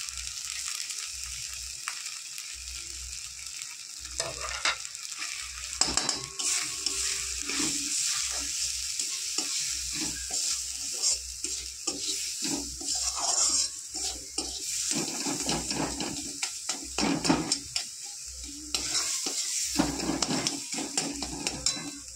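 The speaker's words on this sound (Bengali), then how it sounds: "ভালো করে কষিয়ে নিয়েছি।" Okra sautés in a pan with chilli, turmeric, cumin and coriander powders, salt and sugar, a lively sizzle punctuated by frequent metal spatula scrapes and clanks against the pan throughout.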